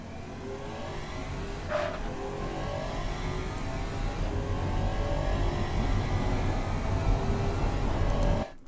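In the video game Automation, a 2016 Athena CL9 car engine revs steadily, climbing through the gears. Its drone is continuous and prominent, holds close and loud, then cuts off sharply at the end.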